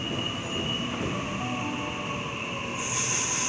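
A Sydney suburban train pulls into Killara station, a steady loud rumble of wheels and motors with a high squealing whine that brightens near the end as it slows.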